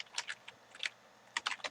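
Fingers type a website address on a computer keyboard in short, quick bursts of soft, close key clicks with brief pauses between them.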